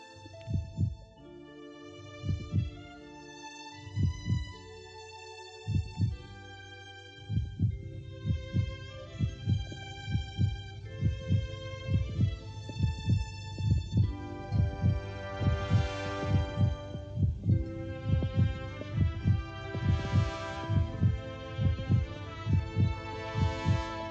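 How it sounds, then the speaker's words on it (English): A slow, rhythmic heartbeat of a swallow, steady paired thumps repeating for the whole stretch beneath a soft sustained musical tone, with no voices. "Its heart's beating. The swallow's alive."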